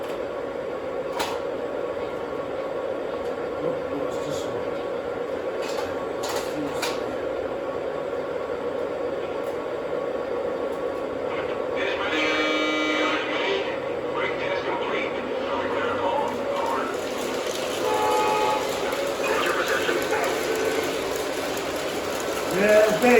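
A LionChief Santa Fe model train runs on its track with a steady electric motor drone and faint clicking over the rails, louder rattling bursts partway through, close by.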